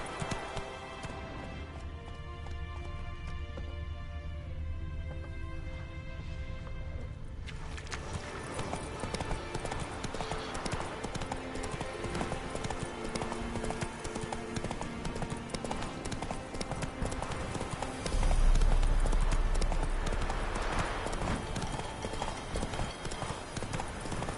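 Hooves of Roach, Geralt's horse in The Witcher 3: Wild Hunt, clip-clop in a steady galloping rhythm for over twenty seconds, with game music underneath and a brief heavier thump near the end.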